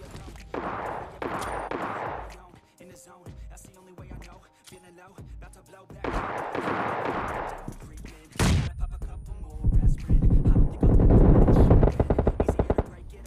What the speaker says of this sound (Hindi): अब जंकयार्ड की तरफ से हमको फायर शॉट्स के साउंड आते हैं